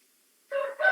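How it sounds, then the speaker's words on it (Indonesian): A rooster crows from a village yard outside a home, starting after a half-second of near silence, a single fairly faint call heard at a distance. "ada background kokokan ayam ya"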